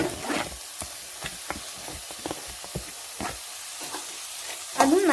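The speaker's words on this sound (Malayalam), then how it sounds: "നന്നായിട്ട് വഴറ്റുക." Vegetables and cabbage being sautéed for chicken cutlet sizzle faintly in a pan, broken by repeated short scrapes and stirring clicks of a spoon.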